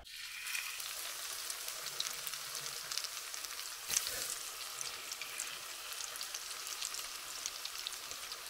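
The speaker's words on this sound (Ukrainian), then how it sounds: "Ідемо смажити під фонариком." Cutlets fry in a pan over bottled gas in a dark garage, giving a steady, fairly faint crackling sizzle throughout with one brief louder tap.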